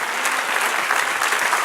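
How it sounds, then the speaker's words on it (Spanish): Church congregation applauding the Lord during a Spanish-language sermon, a steady dense clapping that fills the whole moment without pause. "Dad un aplauso al Señor."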